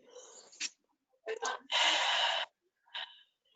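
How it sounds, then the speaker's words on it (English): Deep, audible breaths taken during a guided forgiveness session: short sharp inhales, then a long, heavy, steady exhale, followed by a softer final breath, close and clear in a quiet room. "And then breathe."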